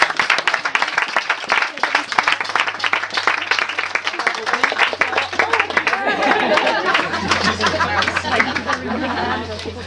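Wedding guests applauding Anne for decorating the cake, a burst of clapping from a room full of people that carries on for several seconds, mixed with chatter and light laughter.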